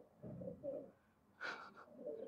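Pigeons coo softly nearby, a few low murmured coos with one brighter call in the middle, quiet and alone.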